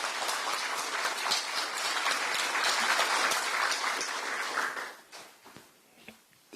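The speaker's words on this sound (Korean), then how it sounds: "큰 박수 부탁드립니다." Loud, sustained applause from a large crowd at an outdoor political rally in Gwangju on the May 18 memorial anniversary, steady for about five seconds before thinning out into scattered claps.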